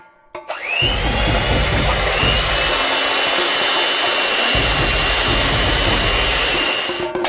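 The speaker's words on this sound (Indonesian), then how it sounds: "Jadi, kita memutuskan untuk menggunakan mixer seperti ini, yang membuat semuanya menjadi lebih baik." A loud electric mixer switches on and whips egg whites in a bowl for a giant homemade Ferrero Rocher, spinning up to a steady high whine that holds throughout, close by and without talk.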